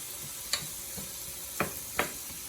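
Quiet, constant sizzle of butter in a pan, with a few light clicks and taps scattered over the hiss.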